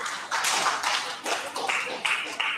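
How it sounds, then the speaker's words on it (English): An audience applauds in bursts of claps, a few strong rolling waves that are fairly close and loud, with brief dips between them. "Can we give that a round of applause?"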